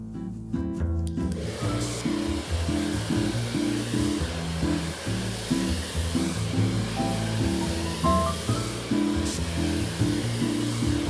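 A hair dryer blows continuously on a washed wig, a steady close whooshing drone with a constant motor hum throughout.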